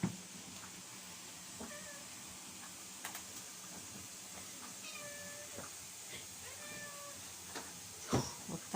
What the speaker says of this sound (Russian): Надо кошку выпустить на улицу. Просится.